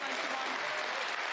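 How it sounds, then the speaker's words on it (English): A snooker crowd in Scotland at the 2023 Scottish Open quarter-final gives steady, dense applause that carries unbroken through the short moment. "every ball is being roared in by this crowd here in Scotland"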